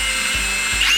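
A power drill countersinking screws into cedar planks during a van build, a close, loud whine that briefly dips twice as the bit bites, with no talking.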